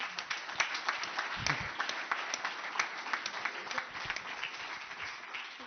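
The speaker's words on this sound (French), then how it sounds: "je voudrais qu'on l'applaudisse, Samir, un peu aussi" An awards ceremony audience claps together in a sustained round of applause for an organiser, the crowd's claps fast and overlapping with a steady, moderately distant texture and no voices.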